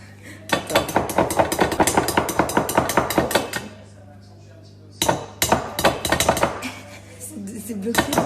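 Egg whites being whisked stiff in a bowl, a rapid run of clattering, scraping strokes close by that pauses for about a second and then starts again, with quiet voices in the background.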